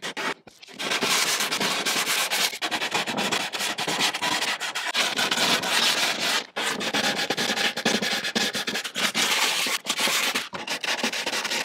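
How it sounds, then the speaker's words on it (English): A power sander rounds off corners on a panel in the cargo area of a two-door Ford Bronco Badlands, producing a loud, close, continuous abrasive roar with a few brief breaks as the tool is lifted and repositioned. "Yeah, we'll just do that with the sander."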